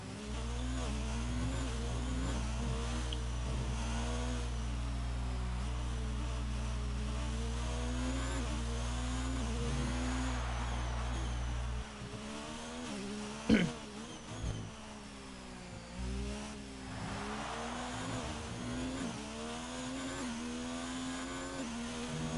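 F1 2019 racing game car on a flat-out hot lap at a circuit in Spain on soft compound tyres, a continuous whining engine note rising and falling through gear changes, heard steadily without talk.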